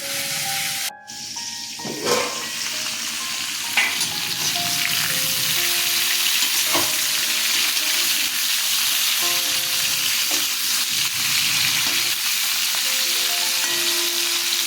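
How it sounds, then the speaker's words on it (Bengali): Cauliflower florets frying in refined oil, a loud continuous close sizzle with scraping and stirring clinks throughout, no voices. "কপিগুলো ভাজা হয়ে গেছে"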